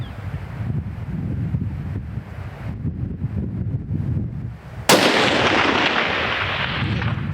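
A single loud rifle shot cracks out at a whitetail deer during a Texas Hill Country hunt, a sharp report followed by a rolling echo, after several seconds of wind noise and rustling outdoors.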